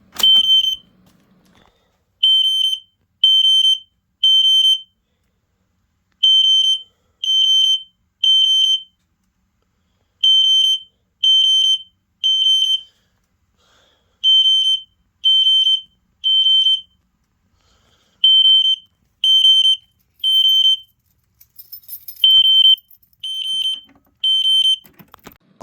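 A System Sensor SpectrAlert Classic fire alarm, reset to a different tone, blares loud high beeps in repeating groups of three with short gaps, a temporal-three pattern running throughout.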